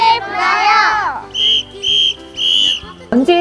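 A safety whistle blown in three sharp, loud bursts during child abduction-prevention training, following a child's high, sliding voice, with short silences between the blasts.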